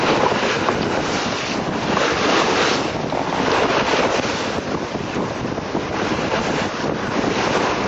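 A sailing boat at sea in the Jester Baltimore Challenge taking a pounding, a constant loud roar of wind and rushing water against the hull, dense and unbroken, no talking.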